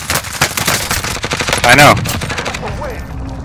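Rapid video game gunfire crackles in a dense, loud burst of repeated shots, with players talking briefly over it.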